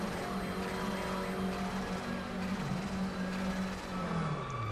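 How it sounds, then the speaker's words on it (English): A race car at Mount Panorama rolls to a stop in the pit lane, its engine tone dropping with turbo chatter over a loud, steady mechanical drone. "Hear a bit of turbo chatter there as the car comes to a stop."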